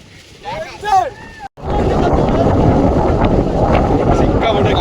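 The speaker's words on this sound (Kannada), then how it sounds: "ಸಿಕ್ಕಾಪಟ್ಟೆ ಗಾಳಿ ಬರ್ತಾ ಇದೆ" Strong wind buffets the microphone on Mandalpatti peak in Coorg as a loud, continuous roar after a brief cutout; a person talks at the start before the gusts take over.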